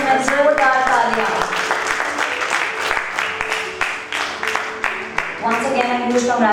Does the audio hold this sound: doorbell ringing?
no